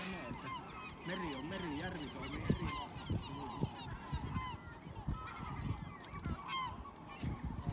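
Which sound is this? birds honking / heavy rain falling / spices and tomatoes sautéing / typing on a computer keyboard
birds honking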